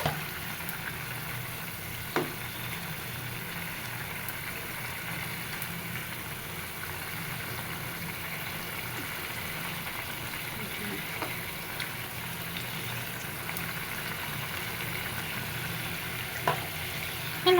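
Fried rohu fish pieces simmer in a bubbling curry, giving a steady, close hiss of boiling and gentle sizzle that runs evenly throughout with no talking.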